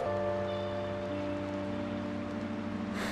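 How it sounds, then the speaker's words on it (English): A steady, soft wash of rain falls continuously in the video game Persona 5 Royal, sitting under sustained low musical tones, with no talking. "Well, rain, huh?"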